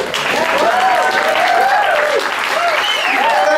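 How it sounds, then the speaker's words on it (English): An audience at an anniversary gathering supporting political prisoners applauds loudly and continuously, with close, dense clapping and faint voices calling out over it. "you're really clapping for yourselves"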